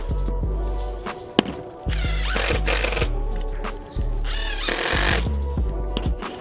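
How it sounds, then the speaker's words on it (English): DeWalt 12V impact driver driving a 1 1/4 inch screw into a piece of wood, heard up close as loud, rapid rattling hammer bursts in several short stretches separated by brief pauses. "Here's a 1 1/4 inch screw that I am going to drive into this piece of wood."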